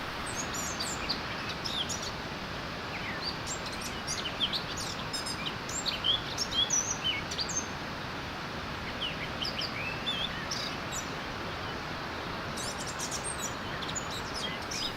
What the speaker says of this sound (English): A joyful bird singing completes the beautiful landscape.